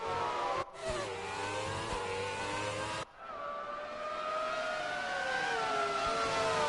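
A race car engine howls through gear changes around the Suzuka circuit in a racing video game, its loud, high whine climbing, cutting off sharply at each shift, then settling into a long sustained pitch.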